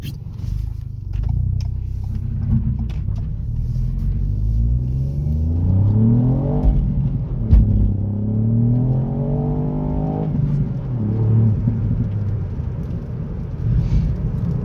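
A Ford Fiesta ST MK8 with a limited-slip differential accelerates hard on a wet road, its engine note rising through gears in loud, close sweeps with a brief dip between pulls, over a constant rumble of tyre and road noise.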